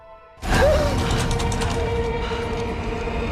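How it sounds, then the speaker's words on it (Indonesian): Someone trying to open a bedroom door, a sudden metallic rattle and grinding of the lock mechanism that starts abruptly and continues as a steady, close, scraping clatter. "ada seseorang yang mencoba membuka pintu kamar"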